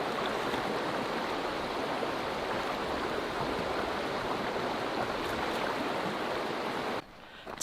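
The Rio Grande in Big Bend Ranch State Park rushes in a steady, loud, close-up stream of broadband water noise, with a dip in level near the end.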